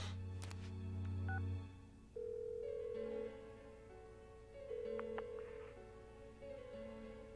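A phone call in the video game Persona 4 plays as quiet electronic dial tones and beeps, followed by a steady, repeating ringing pattern of sustained tones, soft and without any voices.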